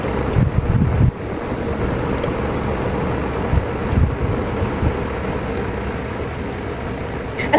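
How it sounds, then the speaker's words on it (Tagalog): Wind blows outdoors in a steady broadband rush across the whole stretch, with a few louder gusts buffeting the microphone near the start and around the middle. "Ito guys, may mga hangin oh."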